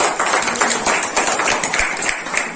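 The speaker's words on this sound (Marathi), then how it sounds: "या तिघांसाठी सुद्धा एकदा अभिनंदन म्हणून आपण जोरदार टाळ्या वाजवूया." An audience at an abacus class opening ceremony claps together in steady, dense applause that stays loud and even throughout, with no voices standing out.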